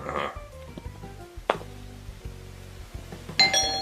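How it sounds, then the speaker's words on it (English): A doorbell chimes briefly early on amid a busy cartoon-style soundtrack with music and clatter, with a sharp hit midway and a bright ding near the end. "gets interrupted when the doorbell rings"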